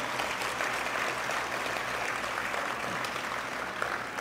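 Church congregation applauding, a steady wash of clapping heard from a distance and fairly faint, continuing evenly throughout.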